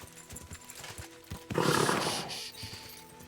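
Horse hooves clip-clop steadily in the video game Kingdom Come Deliverance II, a fairly close, rhythmic stepping that swells into a louder burst with a whinny-like texture midway, then settles back into the steady gait.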